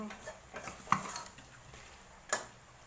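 Chicken pieces being stirred in a pan for a fish-sauce stir-fried chicken dish, with soft scraping and a few sharp clinks of utensil on metal, quiet and close with no voices.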